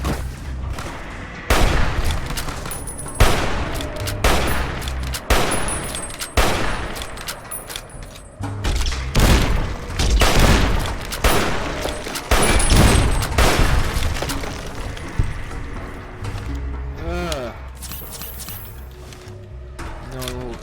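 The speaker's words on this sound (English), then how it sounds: "Would you stop throwing rockets?" Rocket explosions and bursts of gunfire in the game Fallout New Vegas come in loud repeated volleys and booms, with game voices mixed in among the blasts.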